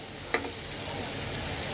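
Spice masala for a foli fish curry is stir-fried in oil with a steady close sizzle and one brief scrape of the spoon near the start, and no one speaks.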